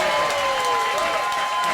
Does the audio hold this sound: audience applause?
yes